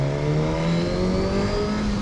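Suzuki GSX-S1000 motorcycle with the K5 inline-four engine, a steady smooth revving drone rising slightly in pitch, close and loud, no talking.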